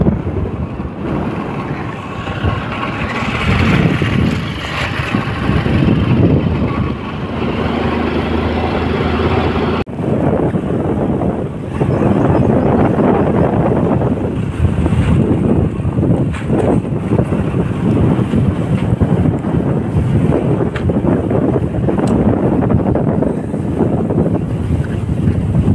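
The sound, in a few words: motorcycle riding at speed with wind noise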